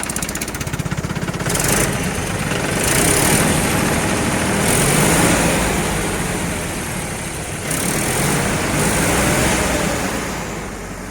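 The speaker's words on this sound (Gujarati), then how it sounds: "એકદમ રનિંગ કન્ડિશનમાં ટ્રેક્ટર છે" A Mahindra tractor engine in running condition drones steadily throughout, loud and close, with a rough low rumble that swells and dips slightly as it runs.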